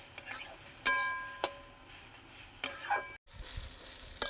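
Mung dal frying in a pan is stirred, a soft, quiet sizzle with a few sharp spoon clinks against the metal spaced irregularly, close by, with a brief drop to near silence near the end.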